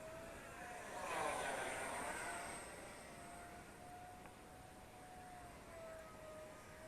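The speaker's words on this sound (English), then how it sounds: "That's pretty fast, I think, for a little 50mm EDF." Eachine F-16 model jet with a 50mm electric ducted fan whining as it flies past, a thin high-pitched whoosh swelling near the start, then a fainter steady tone as it moves away.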